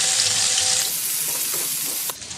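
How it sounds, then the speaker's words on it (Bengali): Onions and dry red chillies sizzle loudly in hot oil in a wok, a steady close frying hiss with a brief clatter of stirring near the end. "কড়াইতে শুকনো লঙ্কা ফোড়ন দিয়ে পেঁয়াজ দিয়ে দিচ্ছি"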